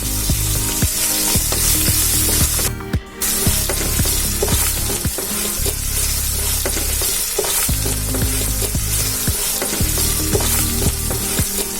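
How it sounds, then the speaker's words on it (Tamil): Garlic and dried red chillies fry in oil for tamarind rice, giving a loud, continuous sizzle with stirring scrapes and a brief break partway through, with no talking. "நல்லா அதில் எண்ணெயிலே போட்டு நல்லா அந்த பூண்டு வாசனை போகிற வரைக்கும் நல்லா அப்படியே வதக்கி வச்சுக்குவோம்"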